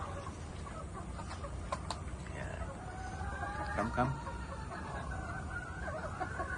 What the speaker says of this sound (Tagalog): Itong ating barako na yellow-legged hats.